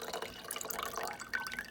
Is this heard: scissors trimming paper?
no